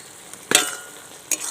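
Fried prawns drop into a simmering banana flower curry, giving two short sizzling splashes with a faint clink between them, close and fairly loud against a quiet bubbling background.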